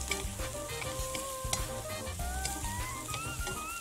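Chicken liver is stir-fried over high heat with chili and garlic: a loud, steady sizzle with constant tossing and scraping in the wok, and soft background music underneath.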